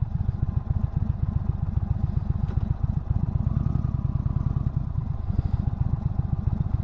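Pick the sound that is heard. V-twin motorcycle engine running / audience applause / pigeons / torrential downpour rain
V-twin motorcycle engine running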